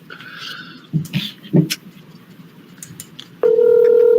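Handling noises and faint background sounds, then a steady electronic phone tone begins abruptly and holds, loud and continuous, as if through a speakerphone.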